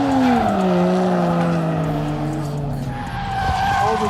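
Two cars drift in tandem at Grange / Apple Valley Speedway, tires skidding in a loud continuous squeal over engine roar, the pitch sliding downward as they sweep past.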